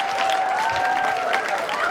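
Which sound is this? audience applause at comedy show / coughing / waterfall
audience applause at comedy show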